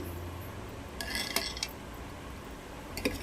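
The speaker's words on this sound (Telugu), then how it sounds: "ఈ పోపు అంతా ఈ తోటకూరలోకి చుక్కకూరలోకి వేసేద్దాం వేసి కలుపుకున్నాం" Fried tempering is stirred into amaranth and sorrel greens in a pot, giving quiet scattered clinks and scrapes of a metal spoon against the vessel with soft squishing between them, close by.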